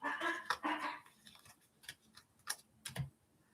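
Dogs bark a few times indoors, short sharp yelps spaced irregularly across a few seconds, fairly faint and close with quiet room tone between them.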